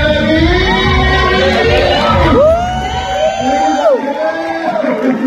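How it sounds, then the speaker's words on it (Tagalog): A crowd at a workers and volunteers appreciation night shouts and cheers together, loud overlapping voices and whoops rising and falling over several seconds. "Sigaw tayo lahat."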